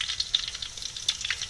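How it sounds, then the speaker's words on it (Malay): Hainanese noodles (mee hailam) fry in a pan, a soft, steady sizzle with light crackling pops and stirring scrapes, fairly faint and close. "Cara kita goreng ni pun kena betul."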